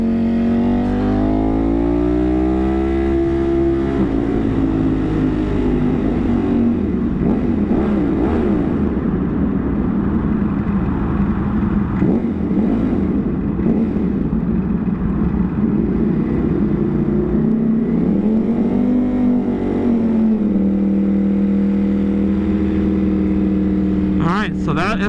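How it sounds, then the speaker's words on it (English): Motorcycle engine running steadily while riding through a tunnel, a loud continuous low hum with rising and falling revs and a brief acceleration near the end, heard alone without talk. "I'm gonna stop talking and just let y'all listen to the bike"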